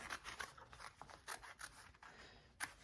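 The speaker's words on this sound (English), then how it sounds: "Next thing you wanna do is cut out the middle part of your zipper right here." Scissors snip through the middle of a bag zipper in a series of quiet, close, crisp cuts with some rubbing and scraping between them. No one speaks.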